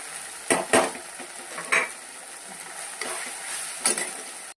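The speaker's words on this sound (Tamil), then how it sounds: "நல்லா எண்ணெய் பிரிகிற வரைக்கும் மசாலா வணக்கிக்கோங்க" Masala with onion and ginger-garlic paste sautés in a pan, a steady sizzle beneath a few sharp scrapes and clinks of a spoon against metal, close and with no voices.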